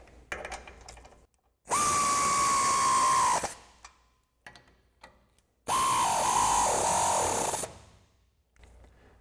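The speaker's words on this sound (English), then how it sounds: "we can take a 19mm socket to tighten down our bottom and our top" A 19mm socket tightens end-link bolts on a 2022-2024 Toyota Tundra during a ReadyLIFT 3-inch SST lift install: two loud, close power-tool whirs of about two seconds each, with faint clicks and handling noise between them.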